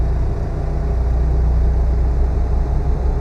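Stock engine of a 2019 Freightliner Cascadia heavy truck in American Truck Simulator, a loud, steady low-pitched drone running continuously with no talk over it.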